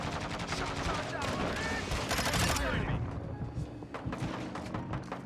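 Rapid automatic gunfire from Modern Warfare 2 rattles in dense bursts with thumping impacts, loud and close, easing off toward the end as a voice speaks over it.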